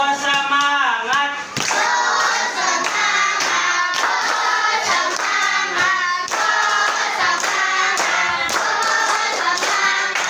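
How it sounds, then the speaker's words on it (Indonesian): A class of students performs the rhythmic 'tepuk go semangat' clapping chant, with voices chanting together over steady, evenly spaced hand claps that carry on throughout. "mari kita tepuk go semangat"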